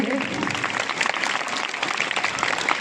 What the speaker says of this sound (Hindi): डॉक्टर प्रमोद गुप्ता जी जोरदार तालियों के साथ इनका स्वागत करेंगे।